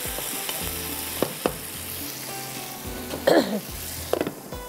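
Palak paneer mixture frying slowly in a pan over low heat, giving a steady close sizzle with a few sharp spatter pops and brief stirring scrapes.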